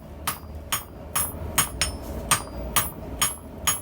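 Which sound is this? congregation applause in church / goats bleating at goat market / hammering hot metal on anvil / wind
hammering hot metal on anvil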